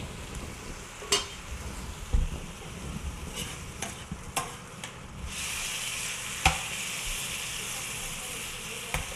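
Mushrooms frying in a pan of cream sauce in a home kitchen, giving a steady hiss and sizzle with occasional stirring clicks and clatter, the sizzle growing brighter midway and continuing to the end.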